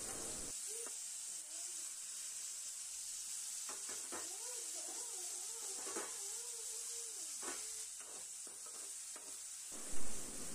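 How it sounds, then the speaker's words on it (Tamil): Onion, garlic and green chilli sauté in a pan, giving a steady sizzle and hiss with occasional stirring scrapes and brief sliding tones over it. "இப்போ இதை நல்லா வதக்கிக்கோங்க."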